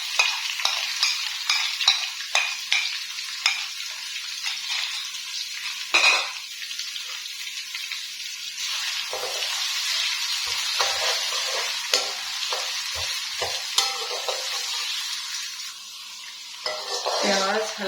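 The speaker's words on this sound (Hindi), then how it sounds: "हल्का सा अदरक लहसुन को ब्राउन करते हुए हम इसमें प्याज डाल देंगे।" Ginger, garlic and onion sizzle in hot oil in a pan while being stirred, with steady frying hiss and repeated scraping and clinking of a spoon against the pan, close and fairly loud, no talking.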